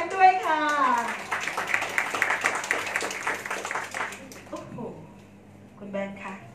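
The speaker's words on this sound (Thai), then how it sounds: "ขอเสียงปรบมือให้กับพี่แบงค์ด้วยค่ะ" Guests at a Thai wedding procession clap in a dense burst that fades out over a few seconds, mixed with someone speaking over a loudspeaker and chatter around it.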